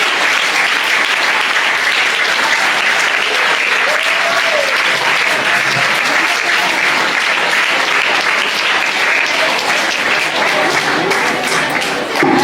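Audience applause at a government high school play, Railway colony, before a cyber crime drama: dense, steady clapping from a crowd fills the whole stretch at even loudness, with a faint voice or two underneath.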